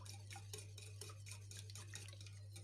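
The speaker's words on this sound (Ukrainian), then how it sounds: "Додаю чесник і все гарно перемішую." Chicken drumsticks with garlic and salt are tossed and stirred in a bowl, giving soft, quiet, rhythmic scraping and squelching over a steady low electrical hum.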